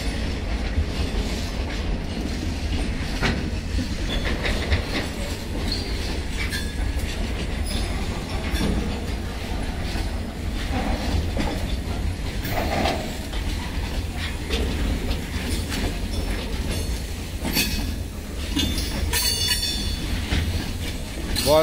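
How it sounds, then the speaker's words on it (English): Rumbling Indian Railways BOSTHSM freight wagons for iron carrying roll past close by, with no guard compartment, steady clattering wheels and occasional metallic squeals over a constant low roar. "Goods train without goods guard compartment."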